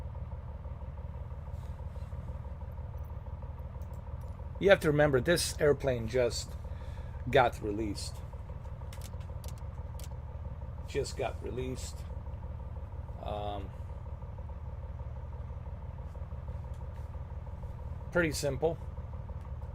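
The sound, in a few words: Carenado C170B plane engine idling, Microsoft Flight Simulator video game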